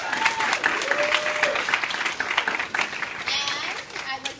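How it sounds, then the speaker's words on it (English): An audience applauds with steady, dense clapping throughout, moderately loud and fairly close, with a few faint voices and cheers mixed in. "I just want to give her a round of applause and thank her for everything she's done"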